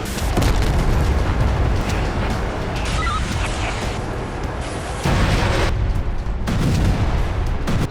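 Shelling in Belgorod, Russia produces heavy, rumbling booms and blasts that roll continuously with bursts of crackle, loud and dense, with a voice faintly present beneath.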